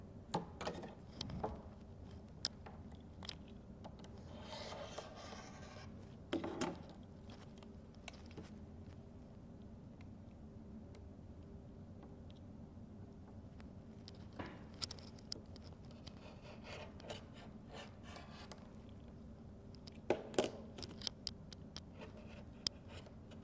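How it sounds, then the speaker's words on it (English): Quilt fabric being cut diagonally for a quilt block, heard as faint intermittent ticks, scratches and soft pattering cuts spread across a quiet room, with a few slightly louder clusters of taps. "now we're going to cut diagonally both sides"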